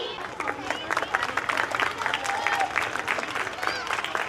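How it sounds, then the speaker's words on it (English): An audience at a school annual function claps in a sustained round of applause, with scattered cheers and chatter mixed into the clapping. "Round of applause."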